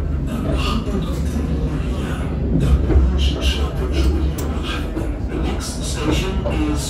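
A tram in Dubai rumbles steadily past with low mechanical drone and faint clatter, while people talk nearby.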